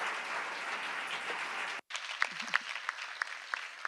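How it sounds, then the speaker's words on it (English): Closing-session applause from an audience at the Empodera Live 2019 event, a dense steady wash of clapping for nearly two seconds, then a brief cut and a thinner patter of scattered claps with distinct louder hand strikes. "deserve an applause"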